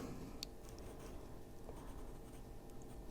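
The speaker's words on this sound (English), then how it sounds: "If I don't like something, I am definitely going to erase it" Pencil marks rubbed out with an eraser on an adult coloring page of whimsical fantasy cats, a soft continuous scratchy rubbing close to the mic with no talking.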